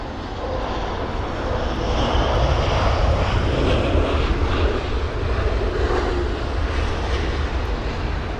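A jet airliner lands at London Heathrow in windy weather, a broad, steady engine roar with rushing wind noise sustained throughout.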